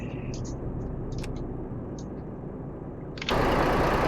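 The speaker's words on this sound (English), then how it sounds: "so let's start the engine." A truck engine in Euro Truck Simulator 2 turns over and catches near the end, its noise jumping to a louder steady running roar after a low idle hum with a few faint clicks.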